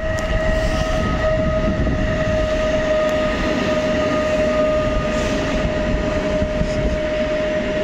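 A PESA Dart passenger train arriving at Łowicz Główny station, heard as a steady, loud rumble of rolling wheels with a sustained high tonal whine throughout, no voices.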